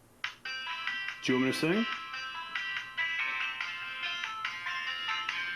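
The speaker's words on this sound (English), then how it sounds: "Ringtone." A phone ringtone plays in a TV commercial as a bright repeating electronic melody of short tones, close and fairly clear, while a person talks briefly over it.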